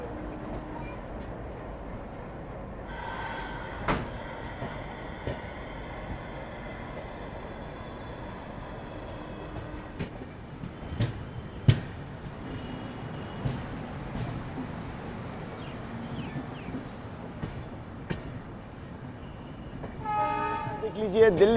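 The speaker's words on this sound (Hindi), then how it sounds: "बाकी हमारी बगल में यहाँ पे एल्को लोकोमोटिव शंटिंग कर रहा है" An ALCO diesel locomotive shunts nearby in a railway yard close to Mathura Junction, heard as a steady rumbling rail din with horn-like tones and a few sharp clanks, fairly loud, and it grows busier toward the end.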